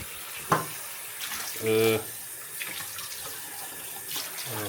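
Water running from a household tap, a steady close hiss and splash from the faucet with a brief louder gush partway through, plus a few small knocks and handling noises.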